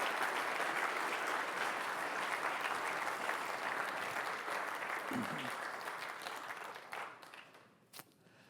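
A sustained round of audience applause at a talk fills the room for several seconds, a brief voice surfacing midway before the clapping thins out and fades with a last few scattered claps.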